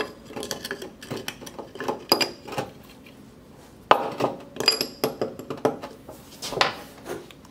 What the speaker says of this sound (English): need to put a porous stone in there first